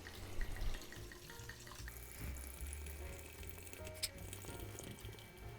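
Wine poured from a bottle into a pitcher for homemade sangria, a steady liquid gurgle running close by throughout with a few faint clinks, no talking.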